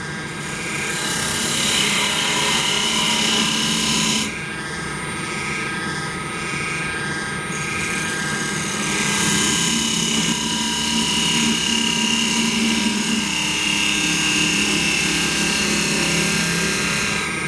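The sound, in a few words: woodturning lathe parting tool cutting a hollow globe ornament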